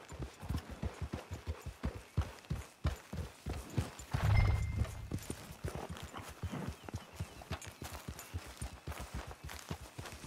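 Horse hooves clip-clop steadily in the western video game Red Dead Online, a quick, even walking rhythm close by throughout, with a brief louder burst partway through.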